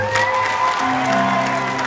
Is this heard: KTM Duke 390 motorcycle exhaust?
no